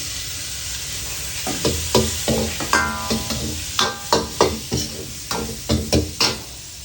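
Beef stir-frying in a hot pan with garlic, close and continuous: a steady sizzle broken by repeated sharp scraping and clanking strokes of a spatula against the metal, coming in a fairly regular rhythm with no voices.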